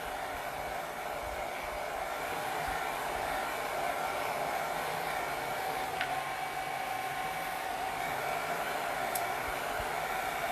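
A hair dryer runs on its cool setting, a steady close whooshing roar of blowing air that holds constant throughout, with a couple of faint clicks and no voices.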